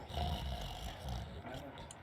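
A character in The Lion's Song snores in a low, rumbling rhythm, with a few slow, throaty breaths.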